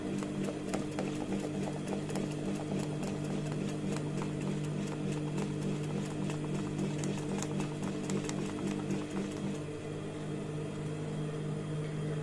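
A sewing machine stitches decorative free-motion embroidery in a hoop, outlining flower petals with a continuous, rapid mechanical rattle that stays close and even throughout.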